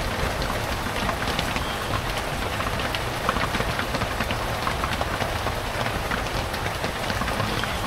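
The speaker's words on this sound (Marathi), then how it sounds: "कारण खूपच पाऊस आहे" Heavy rain pours steadily and loudly beside a parked vehicle, a dense unbroken drumming patter on surfaces close by with no voices.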